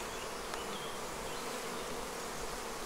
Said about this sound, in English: A lot of worker bees in there.